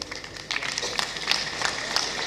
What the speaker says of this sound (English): if you don't clap for yourself, I don't know who else you clap for